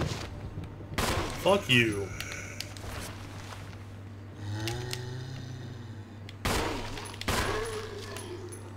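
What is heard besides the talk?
gunshots in the video game Resident Evil HD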